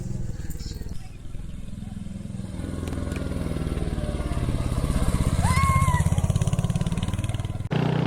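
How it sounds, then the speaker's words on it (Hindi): A motorcycle ridden through mountain roads, its engine droning steadily and climbing gradually in pitch and loudness, close and continuous, with a brief higher whine near the end; voices speak over it. "फाइनली सबने पहाड़ों में बाइक राइड करने का सपना पूरा कर लिया है।"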